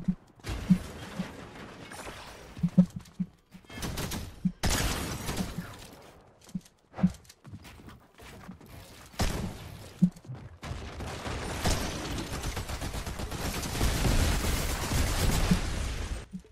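Gunfire in a Fortnite Chapter 5 ranked fight: bursts of rapid shots and sharp impacts broken by short gaps, ending in a long sustained stretch of loud, continuous firing with no talk.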